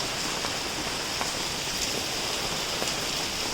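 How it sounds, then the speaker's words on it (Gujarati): Heavy morning rain pours steadily, a dense continuous hiss of drops on surfaces with no break and no voices, close and even throughout. "સારો એવો વરસાદ આવી રહ્યો છે"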